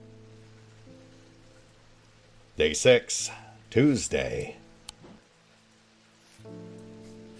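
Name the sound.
rain falling in the video game Strange Antiquities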